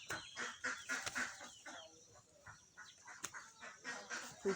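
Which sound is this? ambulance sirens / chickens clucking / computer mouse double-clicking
chickens clucking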